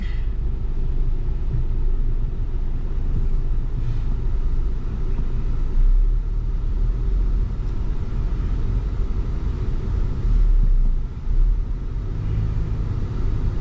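Constant low road rumble of car traffic in Saudi Arabia, heard from inside a vehicle as a steady engine and tire drone with slight swells, no speech.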